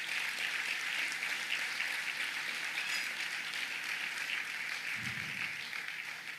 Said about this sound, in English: And please applaud them.